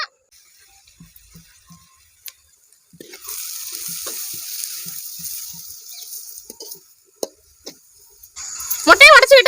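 Curry leaves, carrot, beans and green chili frying in oil at an outdoor farm kitchen: a steady close sizzle rising partway through, with scattered clicks of stirring before it and a brief squeaky rattle at the end.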